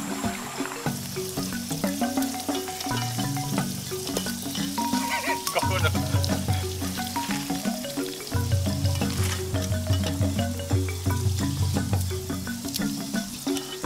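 Tofu frying in a pan gives a continuous sizzle and crackle, with stirring and scraping sounds, a steady close and moderately loud cook.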